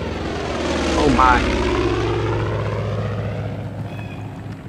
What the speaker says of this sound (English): There's gotta be another plane out here somewhere.